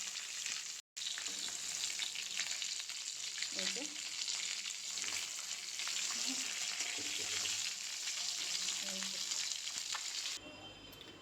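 Fish frying in a wok-style pan, a continuous bright sizzle of hot oil close by with occasional stirring clatter and faint background voices, running steadily before a brief break and a quieter tail.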